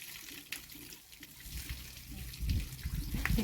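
Tap water runs and splashes steadily while a billy goat is washed on a farm, a soft wet trickle that swells louder toward the end.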